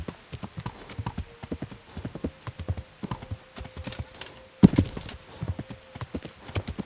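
Horse hooves clip-clop steadily along a road in the medieval video game Kingdom Come: Deliverance, a brisk rhythmic gait at moderate volume with a brief louder burst midway and no talk.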